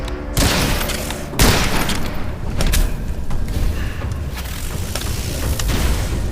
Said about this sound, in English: Like a mystical flashbang.